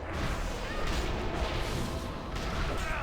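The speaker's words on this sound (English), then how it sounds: "Why are they firing cannons constantly?" Cannons fire steadily in a World of Warcraft dungeon, a dense continuous barrage of booms and crashes that keeps up loud and unbroken throughout.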